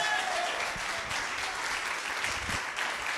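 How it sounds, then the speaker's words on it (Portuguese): A congregation at a Sunday celebration service in a church claps for the Lord, sustained, even applause from many people filling the room throughout. "Se você crê, você pode aplaudir ao Senhor nessa noite."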